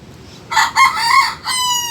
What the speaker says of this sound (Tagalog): Ito po yung alaga kong manok na tinamaan po ng sipon.